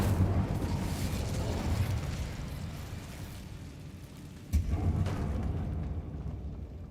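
A fire spell cast in the video game Hogwarts Legacy gives a rushing, roaring whoosh with a sudden burst partway through, then fades, loud and near.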